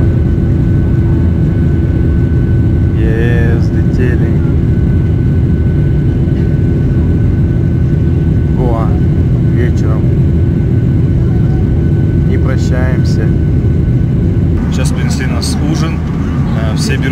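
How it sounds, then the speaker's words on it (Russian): A loud, steady roar of jet engines, heard from a seat right above the engine, fills the cabin throughout as the plane speeds up for takeoff on a flight to Goa, with occasional faint voices beneath the noise. "Вот подо мной здесь турбина самолета."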